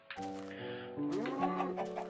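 A chicken in the Minecraft video game clucks in short, close, clear bursts, a few quick squawking calls in a row with no talk over them.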